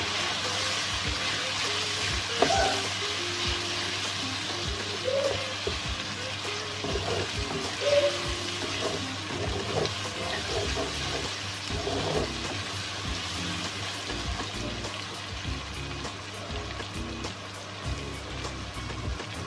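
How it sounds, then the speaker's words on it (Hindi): Ginger garlic paste fries with chicken pieces in a pan for dhaba-style chicken mash daal, producing a steady, rain-like sizzle with occasional clicks of stirring, close and continuous with no voices. "अदरक लहसुन का पेस्ट मेरा भुना गया"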